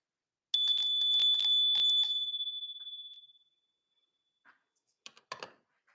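A single bell rings out clearly and fairly loud, its bright tone holding for a few seconds before fading away, followed by a few faint clicks and taps.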